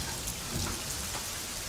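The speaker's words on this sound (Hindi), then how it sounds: "थोड़ा अंदर होकर बैठो, बारिश हो रही है ना।" Steady, heavy rain falling in a film scene, a dense continuous hiss with no voices, holding an even level throughout.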